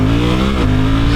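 A Suzuki V-Strom 800 motorcycle accelerates hard in first gear, its steady loud engine note rising in pitch and briefly dipping as the front lifts, close and continuous with wind noise around it.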